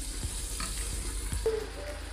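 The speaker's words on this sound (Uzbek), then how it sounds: "Qopqog'ini yopib yopib qovuramiz" Meat fries in a covered pan, a soft steady sizzle with a few faint clicks and a brief squeak partway through, no voices.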